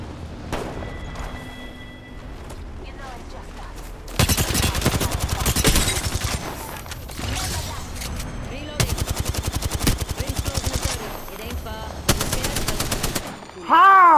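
Rampart's mounted minigun turret in Apex Legends unloads in long, rapid rattling bursts, three main stretches of sustained fire separated by quieter gaps with scattered distant shots, and a voice briefly speaking in between.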